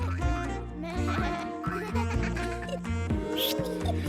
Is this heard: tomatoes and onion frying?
no